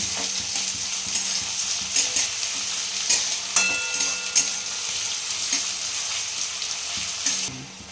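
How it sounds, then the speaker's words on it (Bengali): Onions sizzle steadily in a hot pan while a spoon scrapes and stirs in periodic strokes, close and clear with no voices. "এটা লাল করে তোমাকে আগে ভাজতে হবে।"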